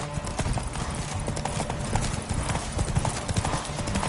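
Roach, Geralt's horse in The Witcher 3, galloping with fast, continuous rhythmic hoofbeats close up, the steady drumming filling the whole stretch without pause.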